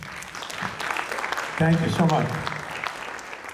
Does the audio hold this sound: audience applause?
yes